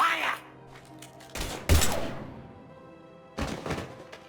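Gunfire in a Mass Effect 3 firefight: a few heavy, sharp blasts and thuds in separate bursts, loud and close, with game dialogue voices around them.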